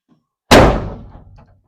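A door with a glass pane slammed shut, one loud, close bang with a sharp attack and a short rattling decay.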